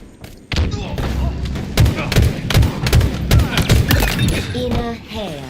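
Rapid bursts of gunfire and heavy thuds crackle through a Halo Infinite multiplayer match, dense and loud for several seconds, with game voice effects mixed in.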